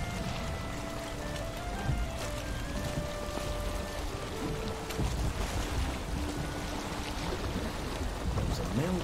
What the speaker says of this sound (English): we'll go for a little sail